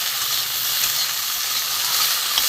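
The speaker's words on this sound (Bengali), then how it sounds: "যতক্ষণ না বন্ধুরা এই ঢেঁড়সের লালাটা কেটে যায় ততক্ষণ একটু ভালো করে আমি ভেজে নেবো" Okra with potato frying in oil in a pan, giving a steady close sizzle and hiss that runs unbroken throughout with no voices.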